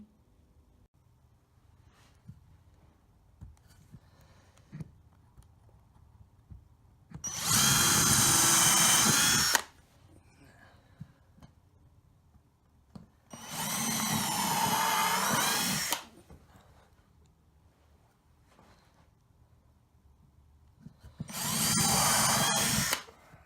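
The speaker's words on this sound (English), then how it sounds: "making sure the drill is not going to go through the entire desk" A power drill whirs in three separate bursts of a few seconds each, drilling into a desk made from a kitchen worktop, loud and close, with quiet pauses between them.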